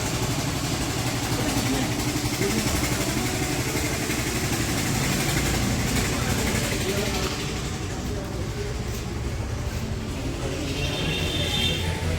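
A motorcycle engine idles steadily at close range on a rural road, a constant loud mid-pitched rumble that stays even throughout with no revving.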